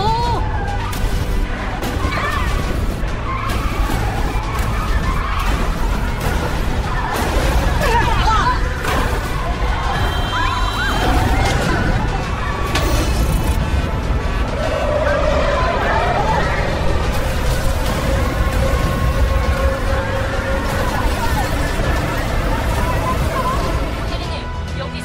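A multi-car pile-up in fog on a road toward Seoul: a sports car skids and slams into others, one car rolling over with an iron chain tangled on its tyres. Dense, loud crashing and rumbling continue throughout without a break.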